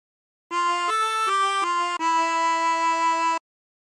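Chromatic harmonica playing a short phrase of a song: a few clear, reedy held notes stepping in pitch, then one long sustained tone, close and alone.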